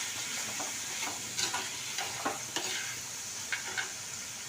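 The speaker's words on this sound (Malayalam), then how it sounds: "നന്നായിട്ടൊന്ന് വഴറ്റി കൊടുക്കാം ഇനി ആവശ്യത്തിന് ഉപ്പും മഞ്ഞപ്പൊടിയും കൂടി ചേർത്ത് വീണ്ടും നമുക്ക് നന്നായിട്ട് ഇളക്കി കൊടുക്കാം" Green brinjal being stirred and sautéed in a pan with salt and turmeric, producing a steady low sizzle broken by repeated scraping clicks of the stirring spoon, close and moderate, with no talking.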